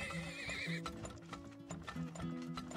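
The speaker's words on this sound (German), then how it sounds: "Und noch ein Pferdchen." A horse whinnies and its hooves clip-clop in the PC video game Turmoil. A high neigh at the start is followed by steady hoofbeats over a busy layer of game sounds.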